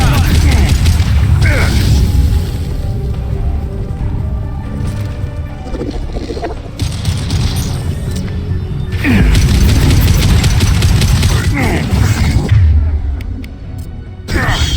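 Heavy anti-ship battery cannons firing in the video game Mass Effect 2, a series of loud deep booms and crashing blasts in bursts, mixed with game voices speaking over the action.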